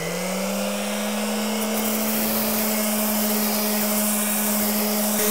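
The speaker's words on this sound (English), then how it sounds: "A belt sander would be preferable, but I have a random orbital" A random orbital sander runs steadily on a cut edge of PVC door trim, a continuous close whine with a constant tone and no pauses, heard alone without talk.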